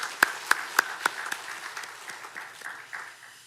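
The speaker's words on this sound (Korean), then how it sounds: "다시 한번 감사의 박수를 표하도록 하겠습니다" A church congregation gives a short round of applause during a Sunday morning service, opening with a few sharp, distinct claps that quickly thin into softer scattered clapping and fade out.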